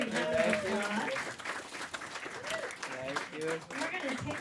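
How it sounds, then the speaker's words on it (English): Audience applause for a performer at a Friday night concert, a sustained burst of clapping with voices and speech-like sounds mixed in throughout. "Big round of applause."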